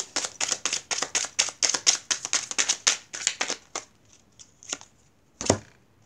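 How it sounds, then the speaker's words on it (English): Tarot cards are shuffled in quick, crisp riffling bursts, a rapid run of close papery slaps that slows into a few sparse flicks and one final louder snap. "One more shuffle, please."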